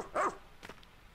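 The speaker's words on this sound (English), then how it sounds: "they hop onto the little dog thing" A small dog-like creature in the video game Pikmin 4 gives one clear bark, followed by a couple of fainter game sounds against a quiet background.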